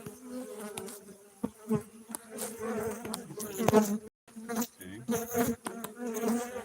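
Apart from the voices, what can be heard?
honey bees buzzing at a beehive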